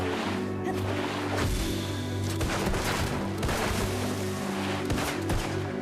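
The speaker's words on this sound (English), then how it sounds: "Oh, bam, rocket launcher, rocket launcher" Rapid overlapping weapon fire and explosive bursts from a rocket launcher in the online game Black Desert, loud and continuous with a dense layered battle din throughout.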